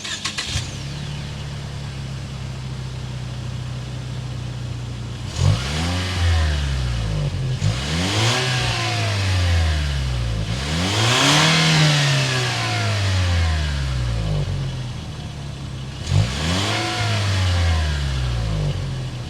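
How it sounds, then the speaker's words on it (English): A 2022 Lexus IS 300 with a turbocharged engine and dual exhaust idles, then revs loudly several times, each sharp rise in pitch sweeping back down to a low idle rumble between bursts. "We need to hear that exhaust sound."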